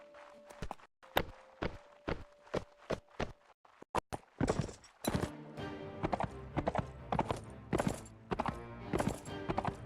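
Horse hooves clip-clop in the medieval battle game Mount and Blade Warband, first as separate evenly spaced beats, then quickening into a dense galloping rhythm, close and clear with no speech.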